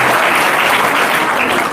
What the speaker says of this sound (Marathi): अक्षराच्या नावाने एकदा जोरदार टाळ्या वाजा